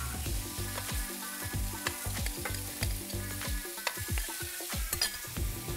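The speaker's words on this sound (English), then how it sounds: "add the shrimp in a single layer and saute for about 2 minutes per side" Shrimp sauté in olive oil in a skillet for shrimp tacos, with a steady close sizzle broken by frequent clicks and scrapes as they are stirred and turned.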